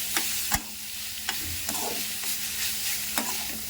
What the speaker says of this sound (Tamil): பீட்ரூட் துருவலை போட்டு நல்லா கிளறி விடணும்